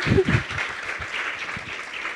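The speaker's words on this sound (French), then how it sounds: "Je vous demande d'applaudir Manon et Léa, s'il vous plaît." Audience applause at a marketing conference, a soft wash of clapping that stays fairly faint, with a few louder low thumps at the start.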